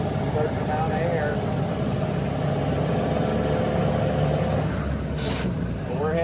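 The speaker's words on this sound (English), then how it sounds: "So I'm letting the RPMs run up a little higher because an engine is just an air pump." Ford Model A engine held at raised RPM on the climb up Pikes Peak, a steady continuous drone running under the whole stretch, with talk over it and a brief higher sweep near the end.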